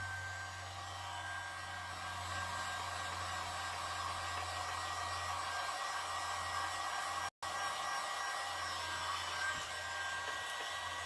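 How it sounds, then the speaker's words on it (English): A heat gun on its low setting blows over a satin-finish ocean resin painting, making a steady, close airy roar that runs with almost no change except for one brief cut-out. "I just want the heat gun on low"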